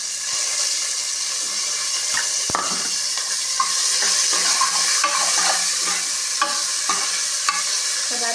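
Two small shallots, sliced, sizzle steadily in hot oil with curry leaves, a spoon scraping and stirring them through the pan in frequent light clatters over a constant bright frying hiss, close and fairly loud.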